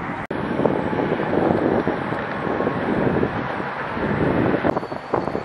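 Strong wind in Dallas, Texas buffets the microphone in a steady, loud roar with gusty rumbling throughout, briefly dropping out near the start.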